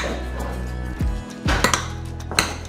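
A utensil scrapes and clinks against a bowl while rice is mixed with egg for fried rice balls, a few sharp metallic knocks and rubbing strokes at an uneven pace, close and fairly loud, with no talking.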